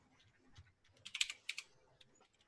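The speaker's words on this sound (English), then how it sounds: "I can hear the keys on the thing going as quick as I can" Computer keyboard keys clatter in a quick, faint flurry of taps, bunching into a denser burst in the middle, with no voices over them.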